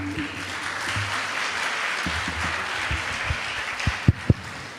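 Applause from a temple congregation at a Sunday feast gathering, steady dense clapping that fills the room for several seconds, with a few louder close claps standing out near the end.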